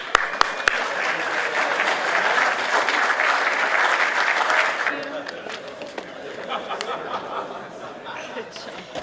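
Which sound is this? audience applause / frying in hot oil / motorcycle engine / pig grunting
audience applause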